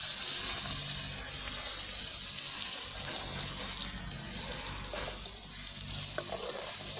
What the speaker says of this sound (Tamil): அரைச்சி வச்சுருந்ததை ஊற்றிக்கலாம்